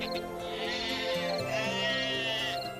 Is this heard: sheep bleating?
yes